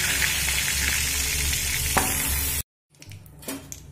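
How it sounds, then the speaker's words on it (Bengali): Cauliflower florets fry over a low flame in oil with turmeric and salt, giving a steady close sizzle for a few seconds before it cuts to near silence, then faint clinks and stirring. "দিয়ে লো ফ্লেম করেই কিন্তু ফুলকপিটা ভাজবো"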